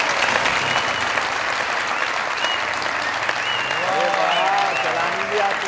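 A studio audience at a comedy talk show claps loudly and steadily throughout, a dense wall of applause with a voice faintly carrying over it toward the end.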